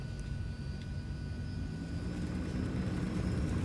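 An aircraft engine in Microsoft Flight Simulator, set in Sweden, a steady low droning rumble with a faint high whine, close and unbroken, building slightly in strength toward the end, with no talk.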